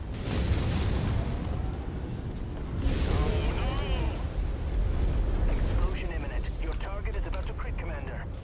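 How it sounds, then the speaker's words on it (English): A mech exploding in the battle game MechWarrior 5: Mercenaries, a loud, rolling eruption of blast and rumble that swells twice, with brief voice chatter over it. "Explosion imminent."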